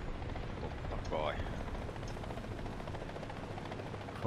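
A helicopter in the War Thunder video game makes a steady, loud rotor and engine drone that fills the whole stretch, with a brief higher sweep partway through.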